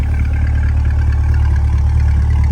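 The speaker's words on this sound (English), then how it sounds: "Love the chuck from the exhaust." A 2020 Chevrolet Corvette 2LT coupe exhaust rumbles deep and steady up close, a loud low-pitched drone from the engine with slight choppy texture and no talking over it.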